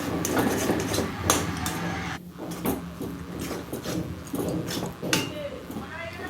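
Stirring a vegetarian pumpkin kofta mixture with sugar in a kadai, irregular metallic scrapes and clinks of a spoon against the pan running under steady speech.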